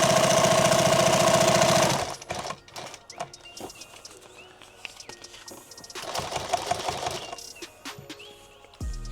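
A sewing machine stitching a channel on a gun rig runs in a loud continuous burst, then gives way to scattered handling clicks and a second, quieter run of stitching.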